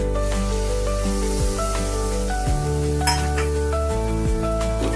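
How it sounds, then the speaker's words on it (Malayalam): Chopped tomatoes hit a hot pan for a Kerala-style egg puff filling, a steady loud sizzle with a few stirring clinks and spatula scrapes running throughout. "നമുക്ക് ഇനി അതിനകത്തോട്ട് അരിഞ്ഞു വെച്ചിരിക്കുന്ന തക്കാളിക്ക് ഇട്ട് കൊടുക്കാം"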